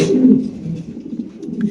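Pigeons coo nearby in low, soft, throaty murmurs that overlap and continue steadily for a couple of seconds.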